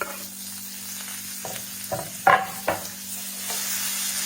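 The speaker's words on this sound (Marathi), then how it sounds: "आता त्याच्यामध्ये आपण कांदा घालूया आणि सोबत टोमॅटो" Chopped onion and tomato stirred and frying in a pan for a Maharashtrian potato bhaji, a steady soft sizzle broken by a few sharp scraping stirs of the spoon.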